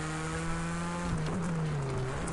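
A rallycross car's engine in the racing game Project CARS 2 holds a steady, buzzing, somewhat vacuum-like drone, then dips and wavers as the revs change, loud and close, with no talking.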